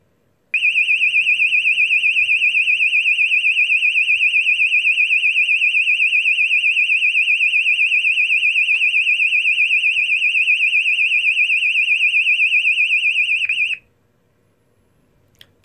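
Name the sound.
E2S A100DC24R alarm, British standard high frequency medium sweep tone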